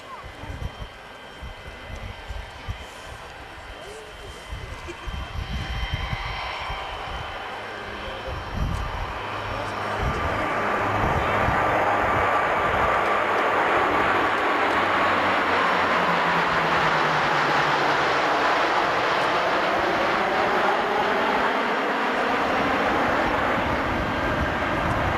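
Several military aircraft in kite formation pass over at the 1993 Fairford airshow, a Hercules tanker at the centre; a broad engine roar swells from the right and holds loud and steady as they fly past.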